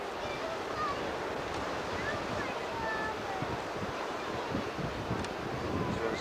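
Ocean surf on a Florida beach, a continuous soft wash of waves with some wind noise, fairly faint and steady throughout.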